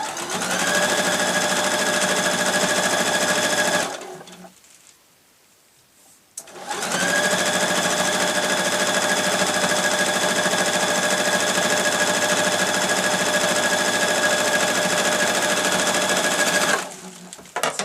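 A sewing machine stitches handles onto a lined, zippered tote bag in two long steady runs of rapid needle chatter, broken by a brief pause, close and loud with no talk.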